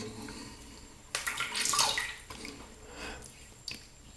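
Tap water runs into a sink while a safety razor is rinsed, starting with a sudden louder splashing gush that then tapers into fainter trickling and drips, with no one talking.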